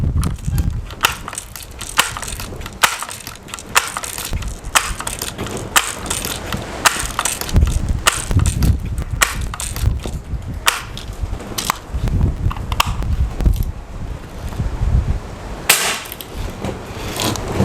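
A Ruger NXG APX multi-pump air rifle is pumped over and over in a run of sharp mechanical clacks and ratcheting strokes, with louder snapping reports standing out now and then, close and fairly loud.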